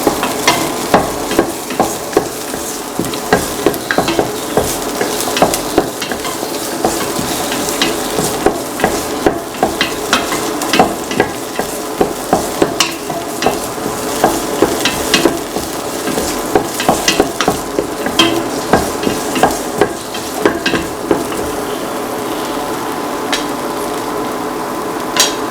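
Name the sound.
shallots frying and being stirred in a pan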